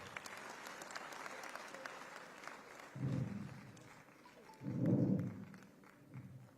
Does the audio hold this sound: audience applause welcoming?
yes